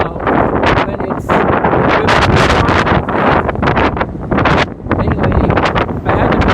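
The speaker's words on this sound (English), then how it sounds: "It's very cold and windy" Strong wind buffets the microphone outdoors on a cold day, a loud, continuous roaring rumble with gusty surges throughout and no voices.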